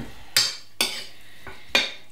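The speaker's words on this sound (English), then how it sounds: "give your chicken a bit of a mix around so that it's got a little bit of oil on it" Four crisp scraping, sloshing strokes as chicken wings are tossed with oil in a bowl, spaced about half a second apart, with quiet pauses between them.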